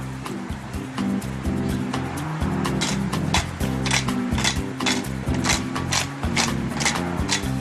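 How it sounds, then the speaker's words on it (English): An old washing machine motor rigged to slowly turn a veal shoulder on a rotisserie gives a steady mechanical whir with a repeating clicking rhythm, loud and continuous, with no voices. "The veal shoulder is turned slowly by a clever device Vince rigged up using an old washing machine motor."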